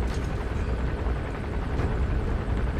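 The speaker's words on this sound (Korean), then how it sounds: "헬기 근처에 있거든요." A helicopter in Metal Gear Solid 5: The Phantom Pain drones nearby with a loud, steady low rotor rumble and broad whooshing noise, continuous with no talk.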